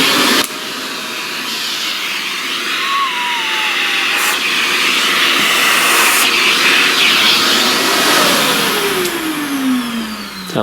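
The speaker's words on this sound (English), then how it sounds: "Oh, let's vacuum again." A handheld vacuum cleaner lifting pastel dust off a paper drawing roars loudly and close, its motor pitch wavering and sliding as it moves across the surface, with a few bumps and knocks over a steady whine.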